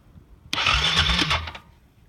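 A small engine with its choke down bursts into life after a moment of quiet, running loud and rough for about a second before dying away.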